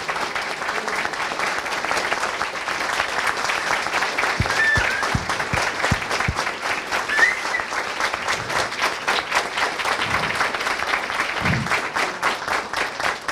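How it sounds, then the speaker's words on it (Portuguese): Sustained audience applause fills an auditorium during an awards ceremony for the Prêmio Dragão do Mar, a dense, steady wash of many hands clapping at even loudness for about thirteen seconds. "Eu convido a todo o auditório para uma salva de palmas para esse senhor"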